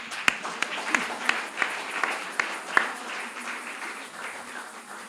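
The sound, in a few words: audience applauding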